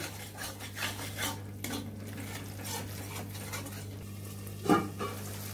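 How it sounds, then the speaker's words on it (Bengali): Korma with cashews being stirred in a kadai: a spoon scrapes and clinks against the metal pan over a low steady hum, with one louder clank near the end. "মাঝে মাঝে ঢাকনা তুলে আমি এইভাবে নেড়ে দিচ্ছি"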